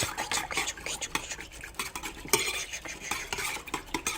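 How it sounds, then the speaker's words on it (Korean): Dietary fiber being stirred into a pot of food at home, a spoon scraping and clinking against the pot in quick, busy strokes with light sizzling underneath, close and fairly loud, with no talking. "자 여기다가 식이섬유를 싹 넣고 똥 잘 나오게. 그리고 휘작휘 휘작."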